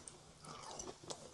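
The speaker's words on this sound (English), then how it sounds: "That skin is crunchy, juicy." A bite into crispy KFC chicken thigh skin, a short close crunch and chewing sounds, quiet and alone.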